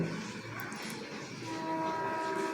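A train at Ekta Nagar railway station, heard as a steady low rumble of rolling carriages with faint mechanical tones, at moderate distance and fairly quiet, with no talking.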